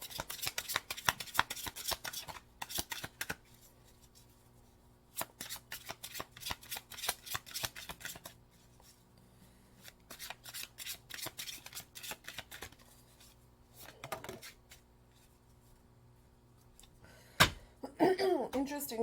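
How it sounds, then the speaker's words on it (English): An oracle card deck is shuffled and cards are drawn, giving bursts of crisp riffling and slapping card sounds separated by quiet pauses, close to the listener. "I'm going to pull from this deck here and see what else comes out here."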